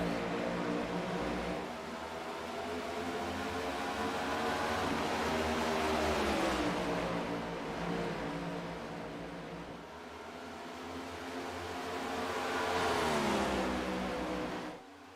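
Race cars at the SERL All-Star race accelerating off the start, a loud continuous engine roar whose pitch rises and falls as the pack pulls away and swings back past.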